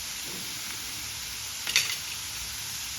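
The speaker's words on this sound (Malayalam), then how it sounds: "ഇതെല്ലാം നന്നായിട്ടൊന്ന് മിക്സ് ചെയ്യാം" Paneer fried rice ingredients with paneer and white pepper being stirred in a pan, a soft continuous sizzle with one short scraping clatter of the spoon midway, quiet and without speech.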